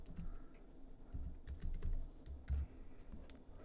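Quiet typing on a computer keyboard, with a soft, irregular flurry of key taps and occasional heavier strokes, close and alone with no talking.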